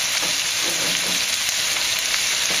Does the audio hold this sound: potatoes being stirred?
yes